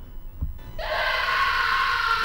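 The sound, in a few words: male scream in Snatcher Sega CD video game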